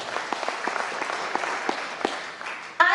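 Hall audience at a business leadership celebration gives sustained, dense clapping that holds steady for about three seconds before a louder burst near the end.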